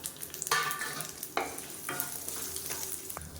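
Small shallots and garlic sautéing in a pan for a spicy chutney, with a soft frying sizzle and a few distinct scrapes of a spoon stirring, close and fairly quiet.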